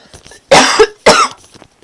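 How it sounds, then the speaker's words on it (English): Two sharp, close coughs about half a second apart from someone commentating a Boom Beach raid, with faint room quiet around them. "Sorry for that cough."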